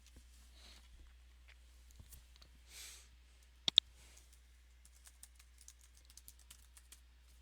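Keyboard typing and mouse clicks at a computer while working in an Excel spreadsheet: a quiet scatter of light taps, a sharp close double click near the middle, then a run of rapid faint keystrokes.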